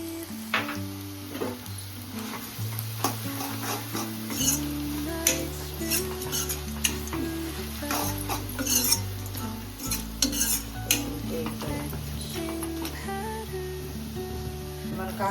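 Sliced bitter gourd fries in a pan with chilli powder, sizzling steadily while a spoon stirs and scrapes through it in repeated clinks, with music playing underneath.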